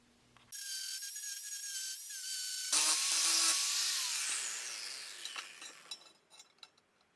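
High-speed cutting tool notching angle iron for an upright guide, a sharp whining grind that rises in pitch, then a harsher metal-cutting screech, tapering off into scattered clinks and knocks.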